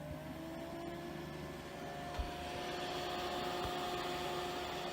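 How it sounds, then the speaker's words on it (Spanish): Cooling fans in a homemade voltage power supply whir steadily and continuously, a constant close-up hum with faint tonal whine and no speech. "Aquí podemos observar el funcionamiento de los ventiladores."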